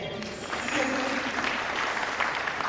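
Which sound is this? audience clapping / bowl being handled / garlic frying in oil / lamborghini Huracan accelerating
audience clapping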